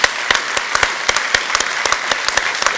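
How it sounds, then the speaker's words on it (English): A large conference audience at a sports ethics and leadership summit gives the panel a standing ovation, a dense, steady wash of clapping with sharp individual claps popping out, loud and close, with no voices. "Let's give a big, long standing applause to the panel."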